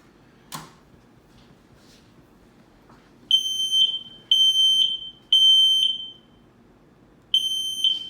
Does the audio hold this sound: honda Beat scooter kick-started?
no